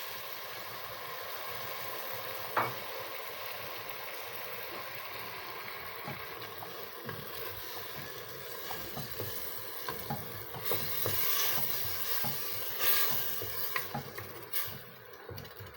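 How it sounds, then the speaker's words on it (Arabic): Tomatoes hit fried onions in a pan, and a steady soft sizzle runs throughout under occasional spoon scrapes and stirring clatter, growing a little louder toward the end, with no one speaking. "دابا غادي نضيفوا لها الطماطم ونضيفوا لها الماء"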